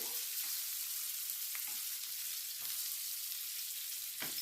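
Dry red chillies and curry leaves crackle steadily in hot oil for a tempering, a close, continuous sizzle with a few brief pops and no voices.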